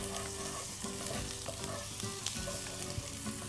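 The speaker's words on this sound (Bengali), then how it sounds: "গাজর ভাজা হয়ে গেছে" Carrot slices and chopped onion fry in a pan with a loud, continuous close sizzle, broken by stirring scrapes and small clacks from a spoon.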